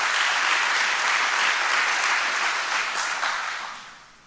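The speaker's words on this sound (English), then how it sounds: "Clap your hands right now." A church crowd claps hands loudly and continuously, a dense wash of applause that holds steady before fading out at the end.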